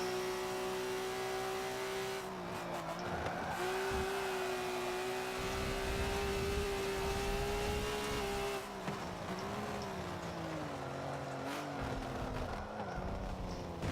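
A Lotus GT1 race car in a racing video game, its engine droning loud and steady at high revs with pitch shifts through gear changes and a brief dip, continuous throughout.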